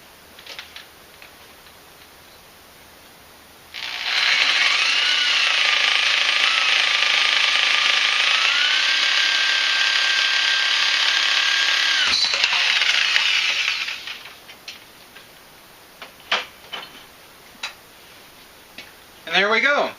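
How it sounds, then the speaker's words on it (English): Pulley on a dual transaxle drivetrain, marked with black tape, spun up by a motor: a steady broadband whir rises abruptly, holds level for about ten seconds, then cuts off, followed by scattered ticks and clunks. "You put a little bit of black tape around the outside, then you can spin the pulley up."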